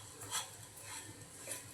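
A spoon stirs sugar into mango semolina sheera in a pot, giving soft, quiet scraping strokes that come in a loose rhythm of three or four passes.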